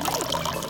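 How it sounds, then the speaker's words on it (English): Water runs and pours in a steady, close trickling splash for a brief moment, with no voices over it. "Look at the water running, guys."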